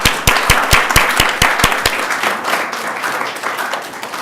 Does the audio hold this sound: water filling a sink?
no